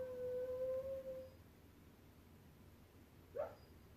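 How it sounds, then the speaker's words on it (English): A dog dreaming in another room lets out a faint, drawn-out howl lasting about a second, followed by a brief soft whimper, distant under a quiet room hiss. "my dog is dreaming in the other room"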